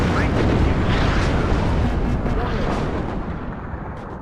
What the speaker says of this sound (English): Big artillery has been doing very well